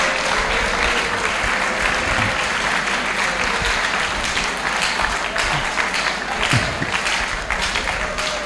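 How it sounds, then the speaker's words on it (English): An audience claps steadily at a school alumni mentorship and career talk in Accra, a loud, dense, sustained round of applause with scattered thumps and faint crowd noise throughout. "You should show appreciation by standing and clapping and doing it."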